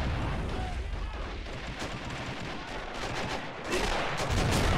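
Artillery booms and gunfire rumble across a war video game battle at a bridge, with dense continuous low thuds and crackling that swell louder toward the end.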